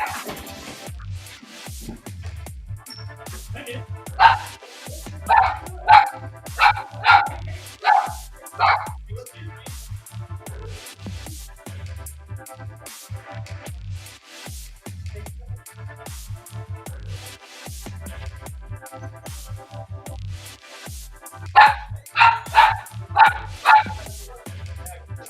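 A dog barks at someone at the door in two separate clusters of sharp, fairly close barks, each a quick run of four or five. Between the clusters come lower rumbling growls and an ongoing background hum.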